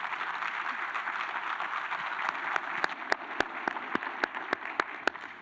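Soft crowd applause welcomes a candidate at a Commonwealth's Attorney candidates forum, a diffuse wash that gives way to a run of distinct, evenly spaced claps from one nearby person toward the end.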